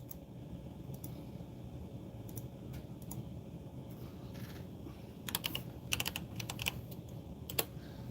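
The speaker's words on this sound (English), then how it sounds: "Everyone should be typing in. I'm typing it in too." Soft, steady typing on a computer keyboard, with quick bursts of louder key clicks clustering toward the end over a quiet room hum.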